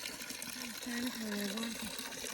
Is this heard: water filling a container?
yes